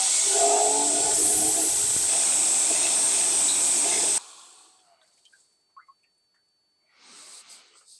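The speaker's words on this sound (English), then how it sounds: "Sand them flat" A sander flattens knife blanks for a Ratbastard 5 knife build: a loud, steady abrasive roar for about four seconds, then it cuts off, leaving a few faint clicks and handling noises.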